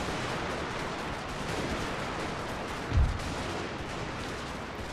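A single deep cannon boom from a bouncing artillery shot in the Napoleon Total War strategy game, rising briefly out of a steady wash of battlefield noise.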